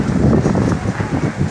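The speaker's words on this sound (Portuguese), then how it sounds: "Beira-lago, não tem tantas árvores para segurar o vento e ele vem com potência máxima." Strong wind gusting at a lakeside during an outdoor motorcycle rock event in Boa Esperança, MG, a steady loud broadband roar buffeting the microphone throughout, with no clear talk.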